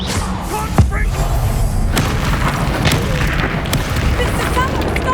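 A Confringo blast spell explodes in the Hogwarts Legacy video game, with a deep boom and sharp cracks amid continuous dense combat noise, and a character's voice speaks over the action.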